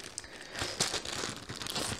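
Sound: crinkling of plastic packaging

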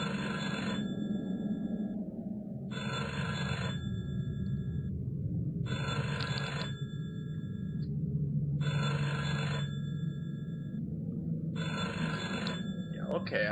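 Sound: telephone picked up in the video game Cellar Door

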